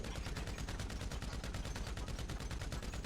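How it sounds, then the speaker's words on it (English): Machine gun with a 200-round drum firing in GTA V, a fast, perfectly regular stream of shots held without pause, moderately quiet and alone. "200 round drum. Look at that. I am aimed, downrange, I'm firing."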